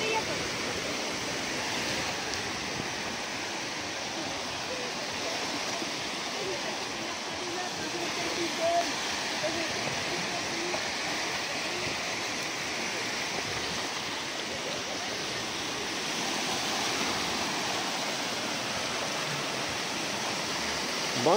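Small, gentle sea waves wash onto a warm-water Barcelona beach as a steady, continuous surf rush with a faint breezy hiss, quiet and unbroken throughout.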